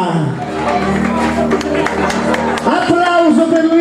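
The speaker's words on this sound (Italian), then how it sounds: "Applauso per Luisa" Applause from a carnival crowd in Montesano Scalo, clapping and cheering beneath a host's voice and background music, with the sound continuing at a steady level throughout.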